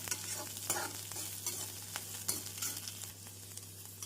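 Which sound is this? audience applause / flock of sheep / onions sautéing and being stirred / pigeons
onions sautéing and being stirred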